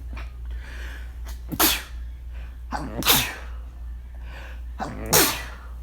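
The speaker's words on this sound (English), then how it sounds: "Oh, that guy sneezes again." A person sneezes three times at spaced intervals, each a sharp, loud burst preceded by a short inhale, with quiet background between them.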